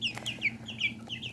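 Serama chicken, a tiny bantam rooster, giving a quick run of soft, repeated clucks, close and fairly quiet, with no talking.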